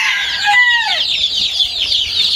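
Local desi chickens on a small farm, a dense chorus of loud, nearby clucking with a drawn-out crowing call rising and falling early on over a busy background.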